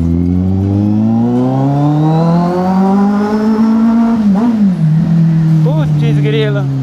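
A Kawasaki Z800 motorcycle engine runs loud and close, its steady hum rising gradually in pitch, then wavering with a few brief blips near the end.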